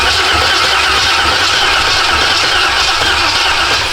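Chevy OBS truck with a swapped-in LS engine cranks over, a loud, steady mechanical churn with low rumble and broad hiss running continuously throughout without pauses or talk.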